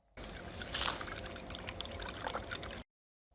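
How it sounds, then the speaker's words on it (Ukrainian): Orange juice pours steadily into a mug for about three seconds, a soft continuous trickle and splash that stops abruptly, heard close and alone. "Наливаємо у кухоль апельсиновий сік."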